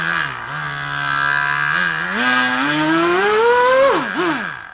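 Small electric motor on a homemade RC hovercraft spinning up, a nasal whining buzz whose pitch rises in steps, then wobbles and drops at the end, loud and close with no speech.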